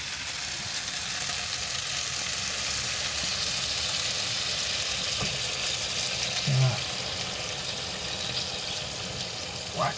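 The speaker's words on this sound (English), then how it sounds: "now we're going to add that lovely stock" Stock pours into Spanish rice and beef in a hot pan, giving a steady, close sizzle and bubbling with faint stirring clinks, under light background noise.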